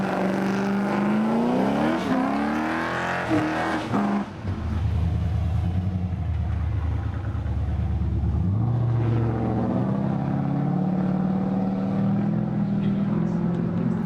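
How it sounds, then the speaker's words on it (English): A tuned car's engine revs hard and rises in pitch while it spins a donut on a dyno shop lot. A deeper, steady roar follows, loud and close, with voices talking faintly at times. "let me do a donut in his car"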